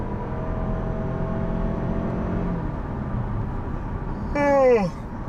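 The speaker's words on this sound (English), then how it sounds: "I'm waiting to hear that transmission change gear, but instead, all I do is hear it go up to the red line, and it just sits there" A 2019 Toyota Camry XLE Hybrid engine is held at high revs during acceleration, giving a steady, droning whir from inside the cabin that swells briefly louder near the end.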